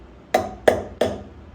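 Three sharp, evenly spaced metallic hammer taps seating a part in a Tormach 440 CNC mill, each ringing briefly, close and clear with no talk.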